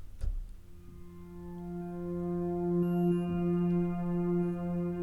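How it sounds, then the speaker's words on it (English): A wavetable synthesizer in smooth mode holds a sustained tone whose timbre shifts gradually and smoothly as it morphs between waveforms, with a soft click at the start and no voice. "So you have a very smooth transition while the wavetable changes the waveforms."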